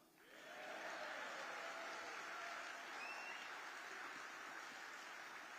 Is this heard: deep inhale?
no